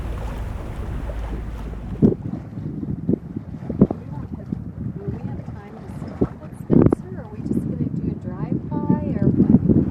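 Sailboat moving at about 4.5 knots in a light 5-6 knot breeze on protected waters, with steady wind rush across the microphone, soft water and hull noise, and people talking over it.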